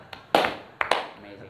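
A few sharp hand claps in quick bursts, with a brief tap before them, against a quiet background.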